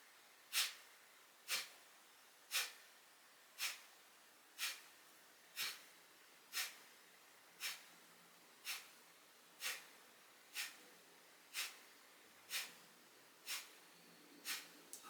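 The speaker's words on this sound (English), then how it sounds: "So again, that's fire breath." Fire breath yoga exercise: a series of sharp, forceful nasal exhales at a steady rhythm of about one per second, fifteen in a row, close and fairly quiet with no talking.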